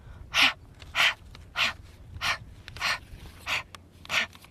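Seven evenly spaced, forceful pumping breaths through the nose or mouth while the legs lift and lower, each a short sharp puff about two-thirds of a second apart, close and steady with no talk.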